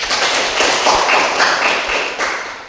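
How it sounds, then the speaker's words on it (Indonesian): A classroom full of students claps in applause, a steady dense patter of many hands that holds for a few seconds, fairly close and loud, then tapers slightly at the end. "Tepuk tangan dulu."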